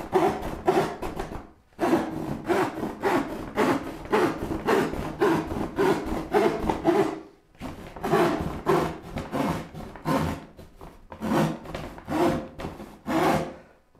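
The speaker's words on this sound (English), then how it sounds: "If you ever cut plywood with a handsaw, always grab a cross cut." A crosscut handsaw cuts through thin plywood in quick, rhythmic rasping strokes, loud and close, in two long runs broken by brief pauses.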